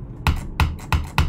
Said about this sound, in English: You guys can probably hear my clicks like extremely loud right now.